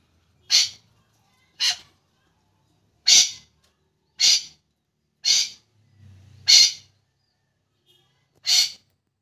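A captive golden pheasant gives seven sharp, hissing, breathy calls at regular intervals, each short and loud against a near-silent background, with a faint low rustle between two of them.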